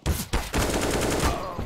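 Pistol shots from a Deagle and a P250 in Counter-Strike on the Nuke map, several sharp cracks in quick succession, loud and close, with a ringing tail after the last few.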